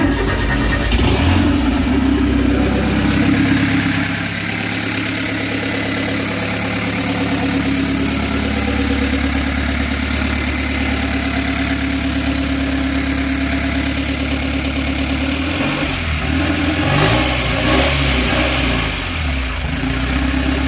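A Porsche 944 spec race car engine cranks and fires up loud and close, then settles into a steady, rough idle with a brief revving surge near the end.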